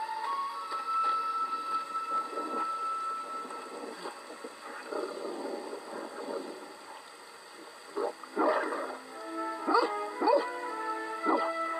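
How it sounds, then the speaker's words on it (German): In the iOS Tintin adventure game, a hostile dog barks and yips repeatedly, sharp bursts growing clustered toward the end over steady game ambience and music. "Dieser Hund hier ist scheinbar nicht ganz so nett wie unser Struppi."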